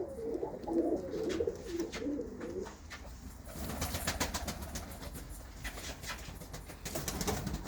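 Pigeons coo softly at close range in a loft, a low burbling call for the first few seconds, followed by wing flutters, rustling and faint chirps.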